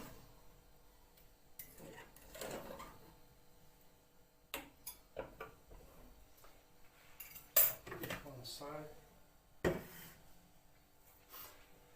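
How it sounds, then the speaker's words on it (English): A fork stirring rice in a pot for a brown stew pork belly meal, heard as scattered sharp metallic taps and scrapes against the pot, close by, with quiet gaps between strokes. "So let's get ourselves a fork. Let's give that a stir."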